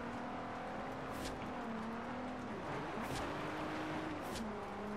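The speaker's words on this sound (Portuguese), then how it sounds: "Ah, drift legal, agora eu fiz." A car drifts in the racing game Forza Horizon 2: a sustained engine drone rises and falls, and short bursts of tire squeal break through roughly three times.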